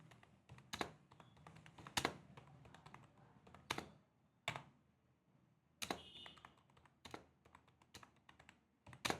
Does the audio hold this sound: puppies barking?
no